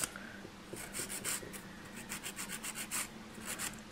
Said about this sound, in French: je mets ma lime sur la pointe et je viens limer légèrement